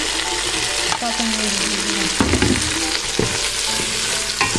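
Onions and shrimp sizzle together in a hot pan, a steady crackling fry running throughout with a few scraping stirs and clanks of a utensil, close and fairly loud.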